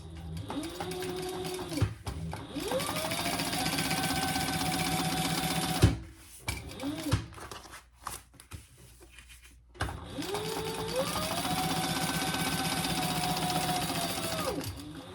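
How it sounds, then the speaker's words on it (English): A sewing machine top-stitches a bag lining piece with a loud, steady mechanical whir. It runs for about six seconds, pauses among quiet handling noises, then starts up again and runs to the end. "just top stitching that lining piece."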